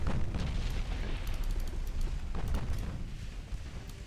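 Torpedo launch from a warship's rear launcher in the naval game Ultimate Admiral Dreadnoughts, heard as a muffled low rumbling rush with scattered dull thumps, moderately quiet and steady throughout.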